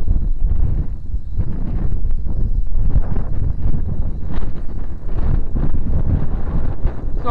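Strong wind buffets the microphone in a steady, loud low roar with gusty surges while a small LiDi RC L15HF 5.8 GHz FPV quadcopter is flown outdoors. No one talks.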